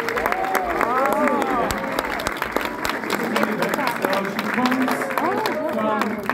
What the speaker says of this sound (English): So give her a big round of applause, one more time.